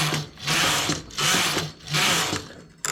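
Knitting machine carriage running back and forth across the needle bed making a double-face coat collar, three loud rasping mechanical sweeps in steady rhythm, close and alone.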